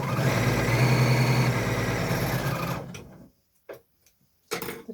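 A sewing machine neatening fabric seam edges with an overlock or zigzag stitch runs as a steady, close motorized whir for about three seconds, then stops, followed by a few brief handling clicks.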